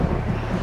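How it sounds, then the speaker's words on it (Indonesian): Strong storm wind blowing steadily out at sea, a broad continuous rushing roar with low buffeting gusts and no voices. "Angin bertiup kencang."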